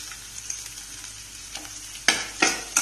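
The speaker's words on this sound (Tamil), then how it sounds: "இதை கொஞ்சம் நல்லா ஃப்ரை பண்ணணும்." Chopped onion and green chillies fry in oil in a pan for a restaurant-style chilli baby corn Manchurian, with a constant close sizzle and a few louder scraping stirs toward the end.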